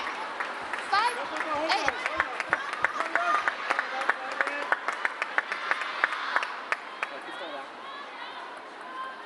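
Chinese fans at an ITTF Mixed Team World Cup 2025 table tennis match chant in rising and falling voices over quick rhythmic clapping, a lively crowd sound at moderate distance.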